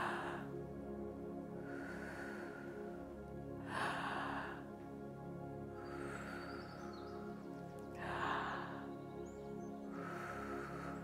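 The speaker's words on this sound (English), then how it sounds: "So deep breath in." Slow, audible breathing in and out, four long airy breaths repeating at a steady relaxed pace over a continuous low background hum, no talking.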